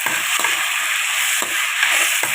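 Eggplant pieces being stirred into sautéed onion and tomato in a pan for a spicy tamarind curry, a steady broad sizzle with several distinct scraping stir strokes at irregular intervals, close and fairly loud.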